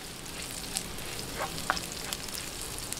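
Aromatics sautéing in a hot pan for pork pochero give a steady, close sizzle and crackle, with a few sharper pops and light stirring clicks breaking through, no voices.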